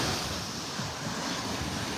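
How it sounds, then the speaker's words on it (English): Small ocean waves wash in steadily at a beach in North Naples, Florida, a continuous broad surf hiss with some wind noise on the microphone. "But these are pretty nice little waves coming in now."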